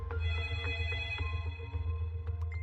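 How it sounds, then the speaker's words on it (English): A telephone rings in a family home in Norwood, North Carolina, in 1986, with steady, repeated electronic tones heard fairly quietly over a low background hum, and no talking. "the phone rang"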